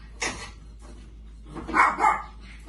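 Pet dog barking indoors near a kitchen stove, a sharp bark followed by two quick yips a moment later, fairly close and moderately loud, with no speech over it.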